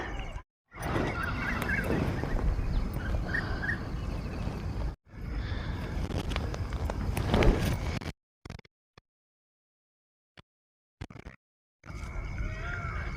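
Peacocks call from a village field in wet, rainy weather, a few short honking cries rising over rough wind and rain noise, with quiet gaps where the sound cuts out.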